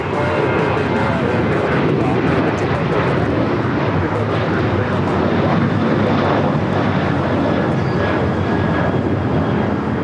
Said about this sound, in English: This is American Airlines 3246 taking off to Phoenix on the 737-800.